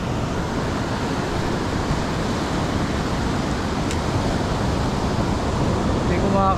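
Sea waves wash onto the shore at a Philippine shore-casting fishing spot, making a constant, loud broadband roar mixed with wind buffeting the microphone, with no clear breaks.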